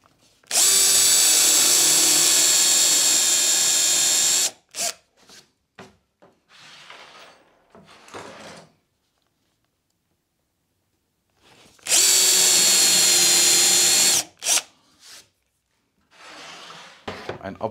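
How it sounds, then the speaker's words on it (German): A Forstner bit bores into a wooden board on a drawer cabinet being restored, two loud steady drilling bursts of about four seconds each, separated by quieter handling knocks and rubbing. "weil ich hier nämlich mit dem Forstnerbohrer eine Bohrung reinmachen möchte"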